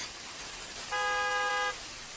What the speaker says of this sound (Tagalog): Kinsa may sige busina sa sakyanan?